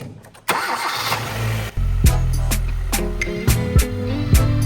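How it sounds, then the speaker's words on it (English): A Hyundai car engine cranks briefly, catches and settles into a steady idle with a few small revs, close and loud, the car under repair after an engine mount was refitted. "So let's put on the engine mount and then try to start it."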